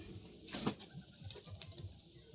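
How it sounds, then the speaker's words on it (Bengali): Pigeons released from a home loft flap their wings in short bursts close by, with soft coos in between. "পায়রা ছেড়ে দেখাচ্ছে"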